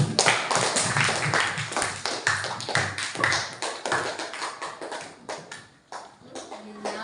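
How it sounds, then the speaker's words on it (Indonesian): Indonesian classroom of students clapping for group 4, a dense burst of nearby handclaps that thins and tapers off over several seconds, with faint voices underneath. "tepuk tangan untuk kelompok 4"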